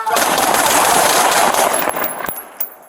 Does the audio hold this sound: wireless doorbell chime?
no